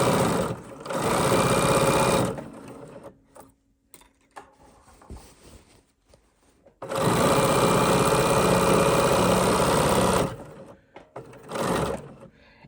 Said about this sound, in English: we're just going to stitch using our 1/4 of an inch seam allowance and a straight stitch